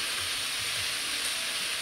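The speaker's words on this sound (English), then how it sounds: "The sizzle means we're gonna get a good color on our chicken" Seasoned chicken breast sizzling in a hot pan for Tuscan chicken: a steady, close broadband hiss and crackle runs throughout with no talking.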